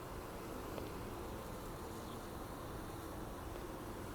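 A faint, steady hum of many honeybees buzzing together in a hive, a soft constant drone with no voices.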